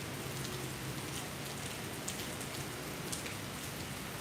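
Rain falls outdoors in a central Ohio metro park, a soft steady patter of drops on surfaces, faint and continuous with no voices.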